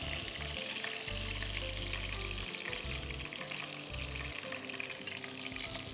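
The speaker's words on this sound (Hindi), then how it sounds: "इनको हम हल्का सा फ्राई करते हैं।" Stuffed green chilies fry in hot oil for a balochi karahi, a steady, loud sizzle and crackle that fills the whole stretch with no talking over it.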